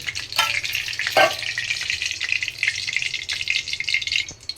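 Ghee and oil sizzle steadily in a kadai while kadai biryani is being made, a loud, continuous close-up crackle with a brief stronger burst partway through and faint stirring scrapes.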